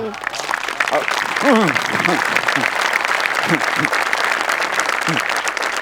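An audience at a comedy show claps in a steady, full round of applause, with voices talking over it throughout.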